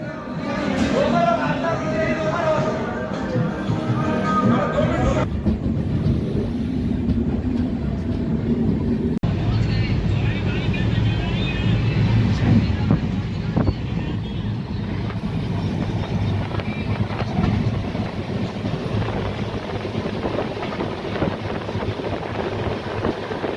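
Aboard the 12715 Sachkhand Express as it pulls out of Jalna station, a continuous loud rumble and wind buffeting fill the whole stretch, with a person talking over it.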